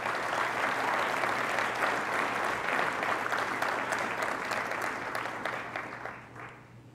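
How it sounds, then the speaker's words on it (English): Audience applause at the grand opening of a research center, dense steady clapping from a large crowd indoors that holds for several seconds and then begins to thin and fade toward the end. "Please give them a round of applause."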